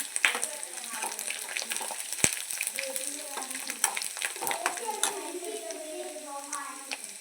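Mustard seeds crackle and spit in hot oil for tender mango pickle, a dense busy sizzle with scattered sharp pops and stirring clatter throughout.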